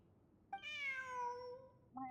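Cat meowing in Genshin Impact, a single clear drawn-out meow of about a second and a half, followed by the start of a second short call, alone and close.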